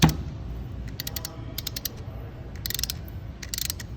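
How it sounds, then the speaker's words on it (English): A socket wrench tightens a bolt on a roller bearing. Its ratchet gives off short bursts of rapid clicking in several separate runs, close and crisp over a low background hum. "now at this point, we're going to just tighten the bolt"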